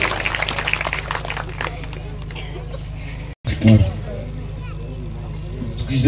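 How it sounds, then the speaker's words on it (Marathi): Crowd at a village yatra festival in Bhalegaon Bazar, honouring Shri Vitthal and Sonaji Maharaj, claps for a bharud performance, a dense burst of applause mixed with loud hubbub and talk over the sound system, briefly cut off midway. "एकदा सर्वांसाठी जोरदार टाळ्या वाजवा"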